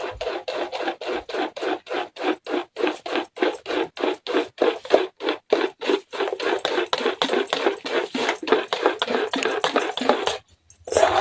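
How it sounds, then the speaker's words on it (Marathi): A rice and lentil flour batter for idli is mixed by hand, giving rapid rhythmic rasping and scraping strokes that repeat steadily and close up, briefly pausing near the end, with no talking. "आता व्यवस्थित असं मिक्स करून घ्यायचं आहे"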